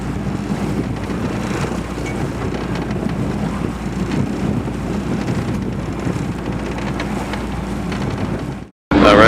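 Sailboat heading back from Catalina Island close-hauled in steady wind, with continuous wind buffeting the microphone and water rushing along the hull, loud and unbroken until a brief cutout near the end.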